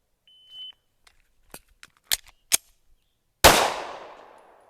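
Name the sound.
pistol shots fired during reload drill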